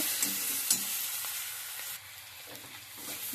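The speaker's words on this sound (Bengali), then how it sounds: "হলুদ, লঙ্কা, নুন টুন দিয়ে ভালো করে কষানো হয়ে গেছে।" Fish frying in a pan with salt, Kashmiri chilli and turmeric, a steady close sizzle with a few light stirring clicks and no talking.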